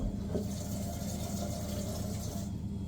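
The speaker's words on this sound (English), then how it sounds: "it's really gloopy, so I just want to get some water down it." Running tap water rinsing gloopy food down a kitchen sink, a steady, continuous splashing rush that stays even throughout, close and moderately loud with no voices.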